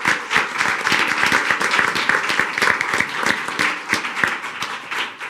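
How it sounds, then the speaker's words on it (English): At a school board meeting, the audience gives students a round of applause, crisp individual claps from a modest room of people, close and sustained. "Please give them another round of applause"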